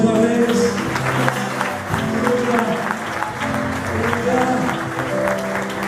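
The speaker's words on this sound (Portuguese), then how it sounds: "Você pode aplaudir o Senhor mais uma vez?" A church congregation claps steadily and loudly in praise during a worship service, a dense wash of hands with some voices and tonal sounds mixed underneath throughout.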